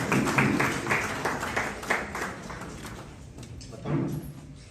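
Audience applause at a Hindi book launch ceremony, scattered clapping that swells and thins in waves, with a fresh burst near the end and some voices mixed in.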